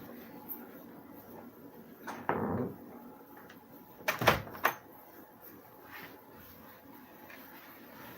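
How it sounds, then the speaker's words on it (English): An indoor door is pulled shut, with a soft sliding scrape first and then a louder latch and knock a couple of seconds later, set against a quiet room. "let me get the door closed over here."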